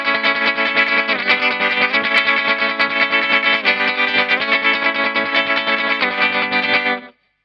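Gretsch G6120 electric guitar played with fast picking, a loud, dense stream of distorted, echo-drenched notes that runs steadily without pause and then stops abruptly at the end.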